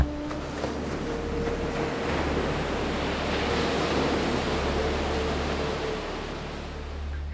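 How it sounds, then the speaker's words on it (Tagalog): Steady rushing surf with a low rumble and some wind noise, continuous and broad, no voices. "maririnig mo pa ang paghampas ng alon sa dalampasigan sa di kalayuan"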